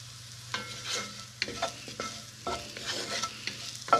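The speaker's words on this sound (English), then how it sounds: "we are definitely beyond a normal onion saute here" Chopped onions sauté in a pan for a spicy Indian greens dish, a steady close sizzle broken by irregular scraping stirs with a faint low hum underneath.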